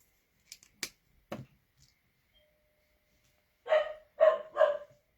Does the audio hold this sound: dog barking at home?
yes